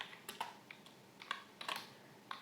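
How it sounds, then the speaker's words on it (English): Quick bursts of keystrokes tap on a computer keyboard while C code is entered, with short clusters of clicks separated by brief pauses, close and fairly quiet in an otherwise still room. "For that, once again I am typing printf"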